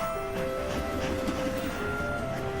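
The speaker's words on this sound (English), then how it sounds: "Man, that train's got some mileage on it." Train passing in an animated cartoon show, a steady rumbling roll with sustained whistle-like tones over continuous rail noise, loud and unbroken.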